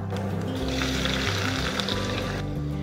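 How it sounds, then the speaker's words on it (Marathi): Onion dropped into hot oil tempered with mustard seeds, cumin and turmeric, giving a steady broad sizzle with a low hum beneath, continuous and close for a few seconds. "आता तेल तापलंय तर आपण फोडणी देऊया त्याला. पहिल्यांदा घालते मी 1 चमचा मोहरी, मग 1 चमचा जिरं, अर्धा चमचा हळद आणि आता कांदा"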